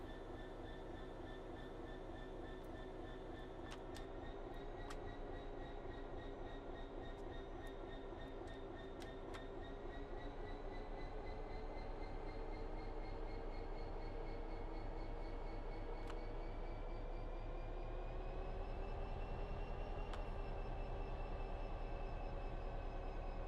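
A long Class 66 freight train in the Train Sim World game hums and drones steadily, with a sustained engine tone and faint rail clatter, constant and moderately quiet throughout without speech.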